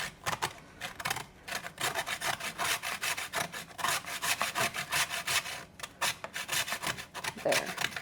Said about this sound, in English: I usually have my kids grate the cheese and stuff because I don't like doing it.